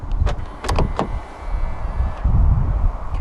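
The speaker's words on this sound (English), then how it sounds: "Press the silver button on either of the front door handles to lock the car." A few sharp mechanical clicks and clunks from the door latch of a 2016 Kia Optima as its silver front door handle button locks the car, followed by a low rumble of handling noise.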